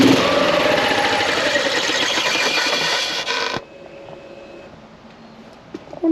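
Petrol golf cart engine cranking slowly with the pedal pressed hard, a labored, loud rhythmic churning that fails to catch and cuts off abruptly, leaving a quiet stretch with faint clicks.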